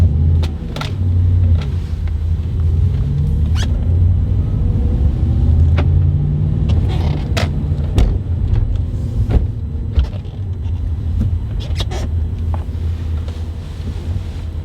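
Inside a moving Audi B7 RS4, a steady low road and engine rumble runs throughout, punctuated by repeated sharp bumps and knocks from the cabin, with no voices.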